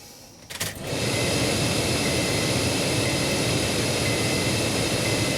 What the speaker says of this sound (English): the blower motor is on, and we've completely bypassed the transistor